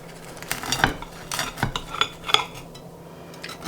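A knife cuts a large lemon pancake on a plate, producing several sharp, separate metallic clinks and scrapes against the dish at irregular intervals, close and fairly quiet, with no talking.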